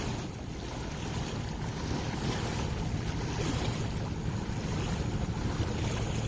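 A trawler or launch passes on a river in cold winter weather, its wash slapping steadily on the water with constant wind rumble and a low engine drone throughout, no voices.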